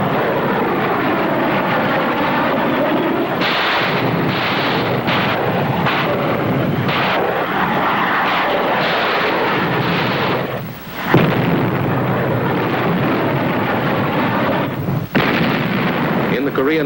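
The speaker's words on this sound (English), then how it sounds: "our ship has been put to work in shore bombardment" Heavy gunfire from the battleship USS Alabama during shore bombardment, loud booming blasts over a dense, roaring wartime soundtrack, with one sharp heavy report standing out.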